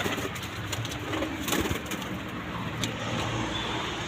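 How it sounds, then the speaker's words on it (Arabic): Pigeons on a rooftop cooing softly and repeatedly, with faint wing flutters and distant traffic noise in the background. "طير عمي تعال، هاي بعدها صغيرة"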